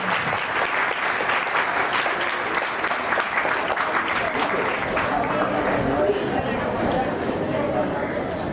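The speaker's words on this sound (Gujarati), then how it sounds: "જોરદાર તાળીઓથી બધાને સ્વાગત કરવું પડશે।" Loud, sustained applause from a crowd welcoming school participants at an Eid Miladunnabi naat competition, dense clapping running steadily from start to finish with faint chatter mixed in.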